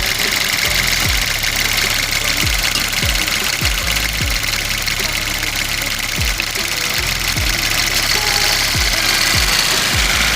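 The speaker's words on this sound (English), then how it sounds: "AC compressor kicked on." A Chevy Cruze engine idles steadily while its AC compressor cycles on, adding a series of dull low thumps at irregular intervals over the continuous hum.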